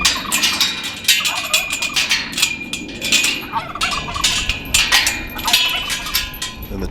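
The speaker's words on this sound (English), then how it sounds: "And the turkeys in the background." Turkeys gobble repeatedly in the background on a farm near beehives, their bursts rising and falling in uneven clusters over several seconds amid clinking noises.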